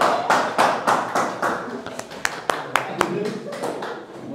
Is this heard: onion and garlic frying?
no